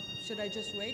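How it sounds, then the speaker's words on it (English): A fire alarm rings at a public conversation event in Cape Town, a steady high-pitched tone that stays constant while a person talks over it. "It's a fire alarm."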